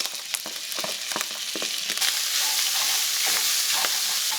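Rice fries in rendered pork fat for bacon kimchi fried rice, with close spatula scrapes and stirring clacks over a sizzle that builds into a loud, steady hiss, no voices.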